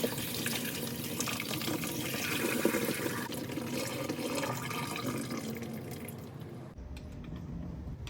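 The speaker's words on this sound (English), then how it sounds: "I use the same flathead screwdriver to push up on the check valve flap and drain the water into the bucket." Water gushes steadily from a sump pump check valve, held open with a flathead screwdriver, into a bucket. The continuous splashing pour stays fairly loud throughout and cuts off abruptly near the end.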